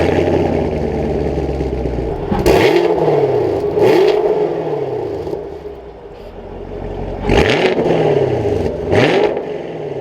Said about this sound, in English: And now with my foot on the brake, we can go ahead and start it up.